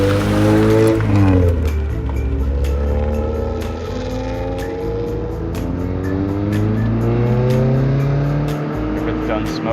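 Honda EF Civic driving around the block, a near engine rising and falling through revs with gear changes and road rumble; people talk over the engine at times.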